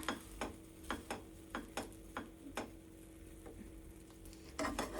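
An egg frying in a pan is flipped over: a low, steady sizzle with a series of sharp spatula clicks and scrapes, then a fuller burst of frying at the end.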